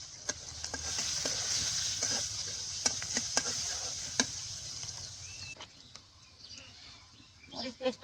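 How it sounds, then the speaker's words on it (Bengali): Onion and green chili fry in a pan with a steady sizzle and occasional stirring clicks, close by in a village home kitchen, while faint bird calls carry in from outside. "মরিচ একটু ভাজা হয়ে গেছে"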